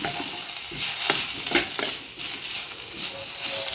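Pearl millet chutney ingredients sautéing in a pan, a soft steady sizzle broken by scraping stirs and a few sharp clinks, close and moderately quiet.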